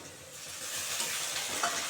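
Chopped tomato and two green chillies fry in hot oil in a pan for an egg and long bean dish, a steady close sizzle with a brief stir or scrape near the end, no talking.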